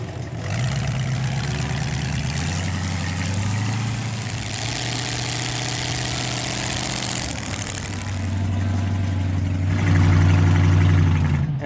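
A gasser wagon's engine runs steadily, a loud, deep throbbing drone with a lumpy idle that swells louder toward the end, with no talking over it.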